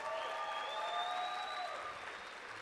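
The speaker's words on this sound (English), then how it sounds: "give them a round of applause" Convention audience applauding under sustained tonal music or synth lines, a steady moderate wash of clapping that fades slightly toward the end.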